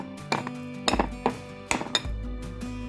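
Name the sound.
frying pan and pots clinking in a kitchen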